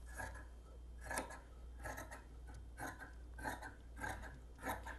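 Scissors cutting a straight line through a long boy's shirt fabric, close and quiet, with about a dozen crisp snips at an uneven rhythm over a low steady hum.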